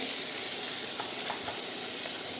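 Poppy-seed vegetable curry bubbling in a pot on the stove, giving a steady, close sizzling hiss with faint soft pops throughout, no voices.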